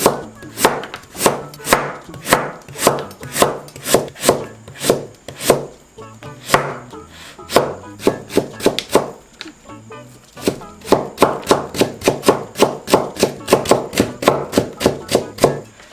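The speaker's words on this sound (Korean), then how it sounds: "자, 무 300g 채 썰어 줄게요." Radish being julienned with a knife on a cutting board, rapid rhythmic chopping strikes in two long bursts separated by a brief pause, close and crisp, no talk.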